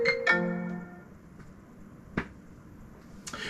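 A phone ringtone from an incoming call chimes in two quick bright tones near the start, then fades into a quiet room with a few faint clicks and taps.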